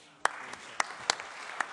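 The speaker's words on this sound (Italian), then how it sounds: "merita anche un applauso." A handful of scattered, sparse hand claps from a conference audience in Rome, on infrastructure and archaeology, sounding thin and faint with long gaps between them.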